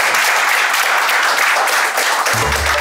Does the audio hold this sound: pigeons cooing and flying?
no